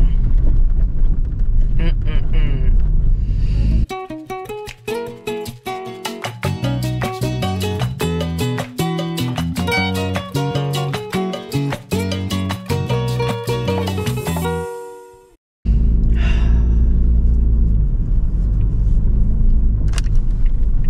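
A car is driven through Monday morning traffic with steady road rumble and wind noise, while music plays through the middle stretch and cuts out abruptly before the engine rumble returns.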